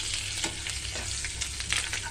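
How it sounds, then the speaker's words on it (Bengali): Onion, garlic and a green chilli frying in a pan for a watermelon fry, a steady close sizzle with light stirring scrapes throughout. "মশলাটা একটু ভাজা ভাজা হয়ে গেছে।"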